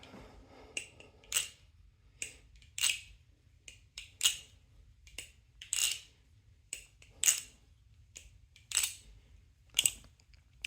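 A Nabalis Morse balisong butterfly knife is flipped, producing quiet, crisp clacks in pairs and small clusters, evenly spaced about every second or two, close up against a near-silent background.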